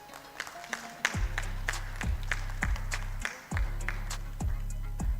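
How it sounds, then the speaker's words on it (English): Audience clapping at a tax conference felicitation ceremony, scattered crisp claps layered over a steady low, droning musical tone that starts and stops, with no talking. "Can we have a big round of applause,"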